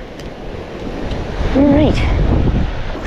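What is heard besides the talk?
strong wind at the beach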